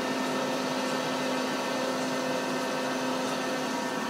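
Wasino TH-102 dual-spindle CNC lathe, both spindles turning at 1,000 RPM, one with a three-jaw chuck and one with a pallet chuck, giving a steady, even machine whine with a constant tonal hum over broadband noise, unchanging throughout.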